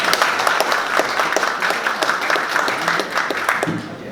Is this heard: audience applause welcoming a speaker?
yes